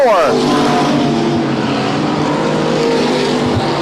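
Stock cars racing on an oval, a big-body Monte Carlo battling a big Caprice off turn four, engines roaring loud and close as they pass with a falling pitch, under an announcer's commentary.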